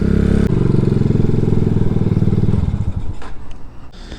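An RPS Condor 250cc motorcycle with a modified stock exhaust idles close by in a steady, loud, throbbing putter, then dips and rises unevenly toward the end.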